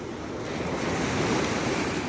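Sea waves washing onto the shore on a morning beach, a steady close roar of surf with light wind noise buffeting the microphone throughout.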